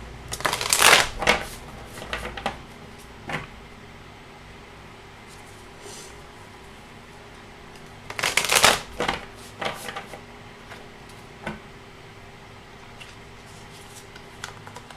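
Two quick riffle shuffles of a card deck, crisp flurries of flicking cards a few seconds apart, with softer handling taps in between in a quiet room.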